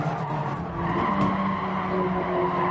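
A race car drives in Gran Turismo 7, a steady engine drone with tire squeal and skidding noise running continuously and loudly throughout.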